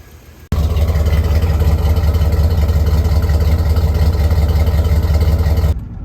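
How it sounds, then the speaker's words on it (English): A Chevrolet Silverado 1500HD truck's 6.0-litre engine idles loudly and steadily on a dyno, with a ticking, puffing exhaust manifold leak pulsing through the rumble until it cuts off near the end. "you can hear I do have an exhaust leak as well, manifold bolts"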